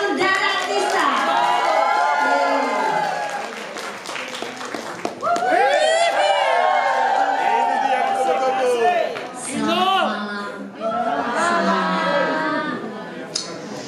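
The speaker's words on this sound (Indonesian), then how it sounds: "Tepuk tangannya dong untuk adik saya" A crowd at a live Indonesian Night concert with a singer cheers, shouts and claps in loud bursts that rise and subside, with voices ringing out through the noise.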